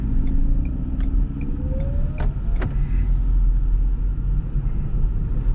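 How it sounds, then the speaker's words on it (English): A 2017 Ford Fusion cruises along a main road, its engine and tire noise forming a steady low rumble with a faint rising whine and a couple of brief clicks, no voices. "Driving video with the Fusion."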